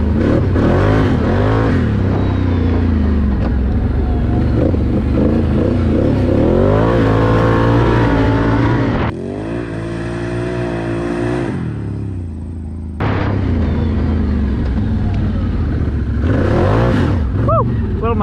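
A 2019 Can-Am Outlander 1000 XXC ATV in sport mode accelerates hard, its loud, close engine revving up and down in repeated sweeping pulls with a brief lull in the middle.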